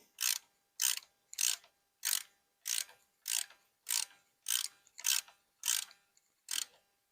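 A ratchet wrench clicks in eleven quick, evenly spaced bursts, tightening the thermostat housing on a John Deere 750 tractor, close up with no talking.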